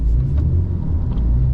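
A BMW E39 sedan crawls through deep blizzard snow at light throttle, its engine a close, heavy low rumble with a slight swell partway through, mixed with the muffled churn of tires in snow.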